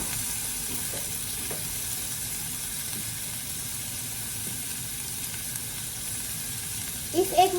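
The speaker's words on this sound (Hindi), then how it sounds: "अब ये तड़का पकेगा" Maharashtrian masala tadka fries in a pan with a steady, hissing sizzle throughout, joined by a few faint scrapes of stirring and a louder clatter near the end.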